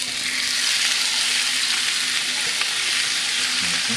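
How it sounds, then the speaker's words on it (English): Shrimp and lobster sizzle loudly and steadily in a hot pan, a dense continuous hiss close up with a faint hum beneath and no talking. "So shrimp and lobster into the pan."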